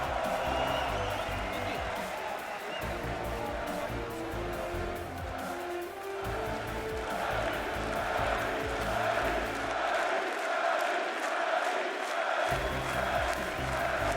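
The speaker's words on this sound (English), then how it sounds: "There's a standing ovation in the hall. Everyone chanting his name." A crowd in the hall at a League of Legends LCS EU Spring 2016 match between H2k-Gaming and Fnatic gives a standing ovation and chants, forming a loud, continuous roar with a caster talking over it.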